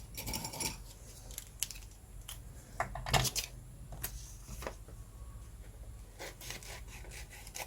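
Scissors snip paper shapes for a craft project: a string of quiet, crisp cuts and rustles at close range, irregularly spaced with short pauses.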